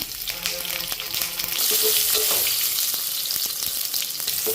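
About fifteen small onions fry in hot oil with mustard seeds and curry leaves for horse gram sambar, making a loud, steady sizzle with brief stirring scrapes in the pan up close.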